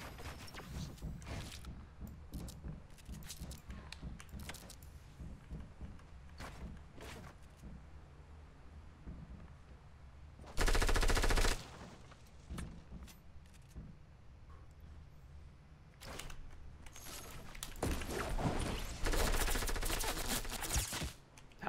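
Fortnite battle royale gunfire, likely a compact SMG, rattles in rapid bursts across the clip, with a loud dense burst near the middle and heavier firing toward the end, mixed with game effects.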